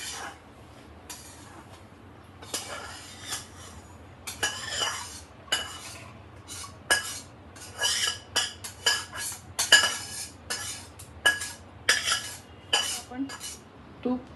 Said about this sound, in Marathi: तर आता आपण परातीमध्ये काढून घेऊया